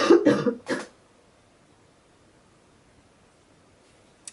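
A quick cluster of three close, harsh coughs right at the start, then near silence with a faint rustle at the end.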